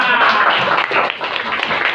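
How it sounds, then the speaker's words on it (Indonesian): A class of schoolchildren claps steadily, a continuous burst of applause from many hands filling the classroom. "Tepuk tangan."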